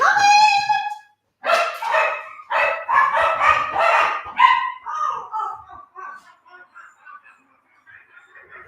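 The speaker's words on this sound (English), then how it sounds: "Jeez, dogs!" Several dogs bark in quick bursts, close and loud, with yips and whimpers that thin out toward the end.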